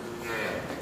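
A cow on a dairy farm lows once, a short, fairly faint moo set against steady background noise.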